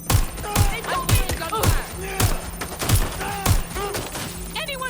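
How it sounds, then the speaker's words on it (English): Gunfire from the video game Watch Dogs: Legion: repeated sharp shots in bursts across the clip, loud and close, with short voiced game sounds mixed in between them. "They're shooting at us! Shots fired!"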